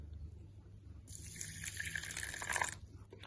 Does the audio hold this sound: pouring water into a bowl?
yes